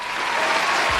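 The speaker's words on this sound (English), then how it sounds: "Give him a round of applause" A studio audience gives a quick burst of dense, loud applause that continues steadily without talk.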